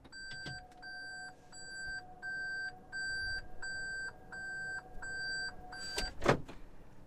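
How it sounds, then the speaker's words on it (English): A Toyota Prius in reverse gives a steady, evenly spaced electronic beep, about nine clear chimes in a row over a faint hum, ending in a brief rustle with no talking. "So that beeping never stops. It just goes and goes and goes for the extent of the time that the vehicle is in reverse."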